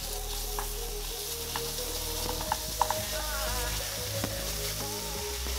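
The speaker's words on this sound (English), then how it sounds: "Now I'm gonna add the ground beef and crumble it up with a spatula." Ground beef frying in a pan for curry bread filling, broken up with a spatula: a constant loud sizzle with scattered scraping and clicking strokes of the spatula, close by and without speech.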